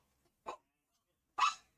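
Two short, sharp dog barks about a second apart, close by against near silence.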